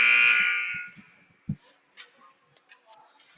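A loud buzzer blares at an ice rink for a girls' hockey game, Bedford against Central/Memorial, then cuts off within about a second, leaving scattered thumps, clatter and faint rink noise.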